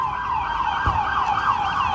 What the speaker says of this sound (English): Police are on the way. Look, you see the sirens right there?